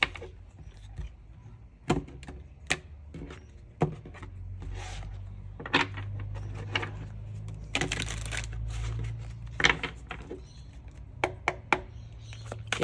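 Tarot cards being shuffled by hand, heard as a string of crisp, close riffles and slaps with soft rubbing in between, irregular in rhythm, with no voices.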